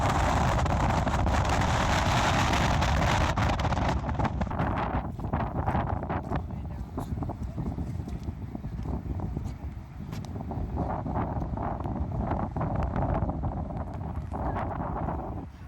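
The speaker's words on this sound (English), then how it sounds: "So I guess windy is how things are going in Ireland" Strong wind in Ireland buffets the microphone in loud, continuous broadband gusts that ease and swell over about fifteen seconds, with faint voices and occasional knocks underneath.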